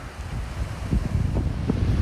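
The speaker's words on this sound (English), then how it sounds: "At the beach, it's getting windy now, isn't it?" Wind at the beach buffets the microphone in loud, gusty rumbling bursts, with no talking.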